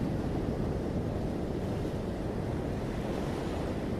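Ocean waves break steadily on a shore in a continuous, full wash of surf, with wind noise beneath and no pauses between swells.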